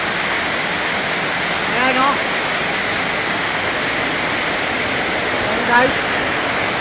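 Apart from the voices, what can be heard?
heavy rain pouring at night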